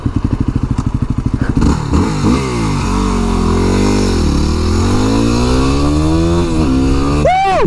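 A Yamaha WR250R motorcycle engine pulls hard while riding, starting with a rapid throbbing idle-like pulse, then rising into a loud, close, sustained revving whine that climbs and dips through the gears.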